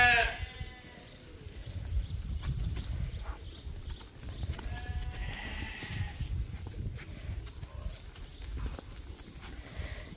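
Sheep and lambs bleat in a pasture, several close calls scattered over a soft rustling background, with no talking.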